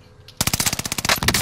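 Video game gunfire: a rapid close burst of automatic shots starting abruptly after a quiet moment and rattling steadily to the end.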